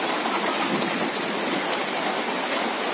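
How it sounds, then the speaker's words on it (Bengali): Heavy rain pours steadily, a dense, even hiss that never lets up for the whole stretch, with no voices. "এই অঝোর ধরা বৃষ্টি এই যে বৃষ্টি"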